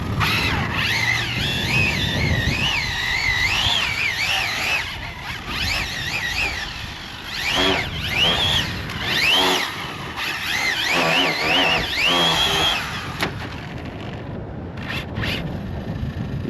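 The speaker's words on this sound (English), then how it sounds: "It definitely sounds like something's coming loose and rubbing on the body." An Arrma Infraction RC car runs with a part working loose and rubbing against its body, giving a high, wavering whine that rises and falls in bursts before cutting out near the end.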